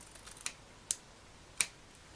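Scissors cutting fabric for a reusable cutlery pouch, three sharp separate snips spaced about half a second apart with a few faint clicks before them, close and quiet, no talking.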